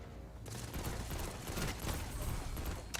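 Dense rapid gunfire in the Destiny 2 video game, a continuous loud crackling barrage of shots with mechanical clatter, no talk.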